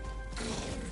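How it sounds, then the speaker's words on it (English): Weapon reload in Helldivers 2, a quick mechanical clatter of magazine and action parts, close and moderately loud, lasting under a second with no voices. "Reloading!"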